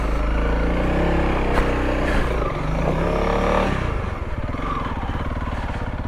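A Honda CRF300L dual sport motorcycle engine labours loudly and steadily up close while riding an off-road trail over ruts and rocks, with occasional clattering from the terrain.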